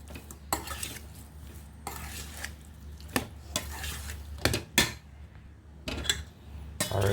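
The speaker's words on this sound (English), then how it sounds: "And then we'll just go stir this." Spoon scraping and clinking against a pot while red pepper flakes are stirred in, several distinct knocks and scrapes over a low steady hum, close and moderately loud.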